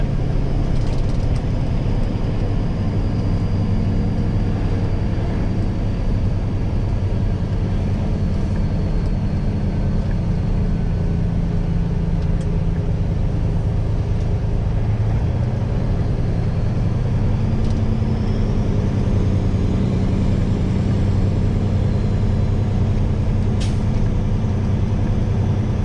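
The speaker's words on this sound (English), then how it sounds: "So yeah, I think this truck shifts smoother than the other one." An old Peterbilt 389 truck drives along with a continuous, loud, low engine drone heard from the cab, its pitch shifting subtly as gears change.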